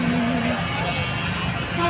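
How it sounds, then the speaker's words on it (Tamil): Busy road traffic at Chathiram bus station, with a horn tooting near the start and again near the end over a continuous engine rumble, close by while people talk. "சத்திரம் இதுதான், சத்திர பேருந்து நிலையம்."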